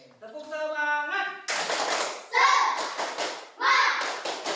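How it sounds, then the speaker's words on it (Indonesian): Grade 5 pupils in an Indonesian classroom perform a rhythmic spirit clap. Children's voices chant in unison, followed by bursts of group clapping in a repeating pattern. "Oke, tepuk semangat."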